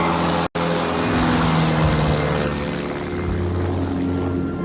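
A light aircraft engine drones steadily during takeoff near Mont Blanc, a close, loud continuous hum with one brief dropout near the start.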